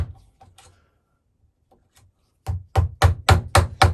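A half-inch mortise chisel chops into wood with six sharp, evenly spaced strikes close up, following a few faint light taps and a quiet pause.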